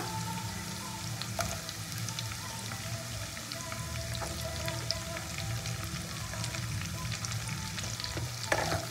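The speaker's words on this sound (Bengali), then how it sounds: "ক্যাপসিকামটা দিয়ে ভালো করে নাড়াচাড়া করে নিয়ে" Capsicum and green chillies stir-fry with ginger in a hot pan for dhaba-style chilli chicken, giving a steady close sizzle with scattered pops and scraping stirs throughout.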